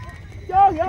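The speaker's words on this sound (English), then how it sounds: "The sound of thousands of hooves shook the earth." Galloping horse hooves clop in a quick rhythm, with a voice rising over them partway through.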